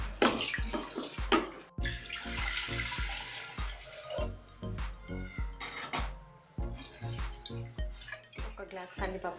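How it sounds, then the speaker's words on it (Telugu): Toor dal being washed with water inside a pressure cooker, with splashing, swishing water and irregular clinks from the pot in short bursts, heard close. "కందిపప్పును కుక్కర్లో వేసుకొని 2 సార్లు శుభ్రంగా కడిగి పెట్టుకోవాలి"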